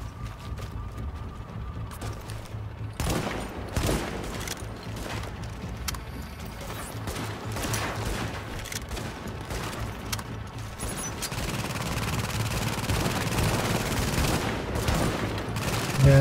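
Gunfire in a firefight in The Division, rapid cracking shots and bursts clattering almost continuously over a steady low background hum, close and fairly loud, with no voices.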